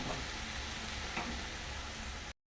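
Tomato, salt and turmeric stir-frying for katla fish curry, producing a faint but steady crackling sizzle with soft stirring that stops suddenly.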